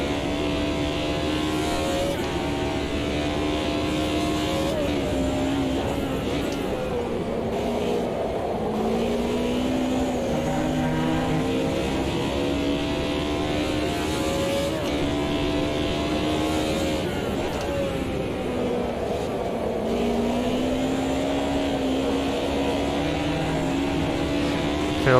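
A BMW race car in the Automobilista 2 racing sim revs hard and climbs through gears in repeated rising sweeps, with shifts and engine drone carrying on continuously and loud throughout.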